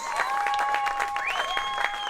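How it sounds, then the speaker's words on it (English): An audience at a RatCon 2014 convention claps briefly for its founders, moderate applause with a sustained musical tone ringing over it. "Let's get a round of applause for Petey Lee, Lance, and Kelly D"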